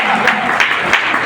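Applause from an audience at an indoor nutrition therapy talk in a party center, a short burst of dense, steady clapping close by.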